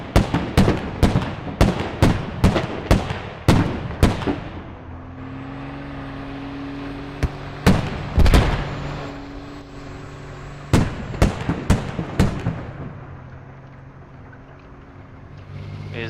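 Bradley fighting vehicle firing its autocannon in the video game Squad: rapid volleys of sharp, loud shots come in bursts, with a steady engine drone between them and no voices.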